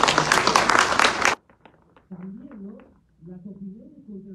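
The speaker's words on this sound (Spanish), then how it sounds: "Un aplauso para el Señor." Brief burst of congregation applause in a church for about a second, then it cuts off and a voice continues speaking over a quiet room.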